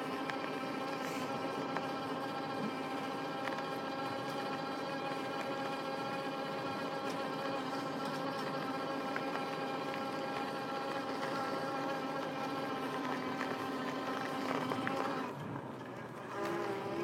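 Electric bike motor under load climbing a substantial hill, a steady close whine with layered tones that holds evenly throughout, dipping slightly near the end.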